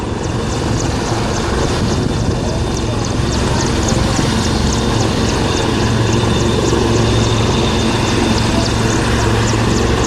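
A loud, continuous drone from a Merlin Mark III military helicopter with steady rotor thumping, close overhead and unchanging for the whole stretch, at an air day display.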